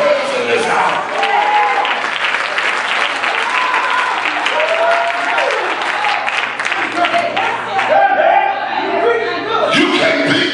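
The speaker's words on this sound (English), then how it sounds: "Clap your hands in this house." A church congregation claps and applauds loudly and steadily through an Easter Sunday service, with scattered chuckles and crowd murmur mixed into the sustained clapping.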